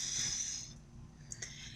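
A person's voice imitates a strong storm wind with one short, breathy, hissing whoosh that swells briefly and then fades away.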